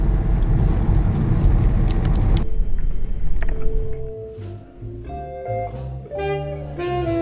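A car drives along a mountain road in the Spanish Pyrenees, giving a loud, steady road rumble for a couple of seconds before melodic music takes over. Nobody talks.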